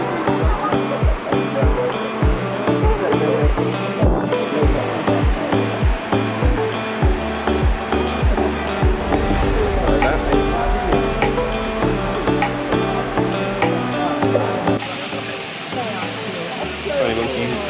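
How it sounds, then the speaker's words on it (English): Tumpak Sewu waterfall in Indonesia pours with a dense, steady rushing hiss that stays loud and unbroken, with people talking and thumping handling noise near the microphone. "Made it to the waterfall."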